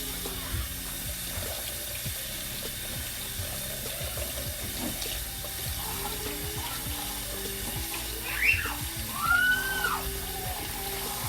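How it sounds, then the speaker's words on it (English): Cold tap water runs steadily from a faucet in a kitchen while preparing pork, a soft continuous splashing stream with faint clinks and a couple of brief squeaks near the end. "And now use cold tap water"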